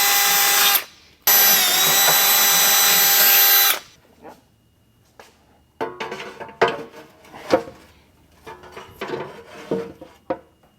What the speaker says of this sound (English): All you have to do is drill them right through using a 3/8 bit.